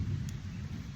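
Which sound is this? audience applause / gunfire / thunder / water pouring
thunder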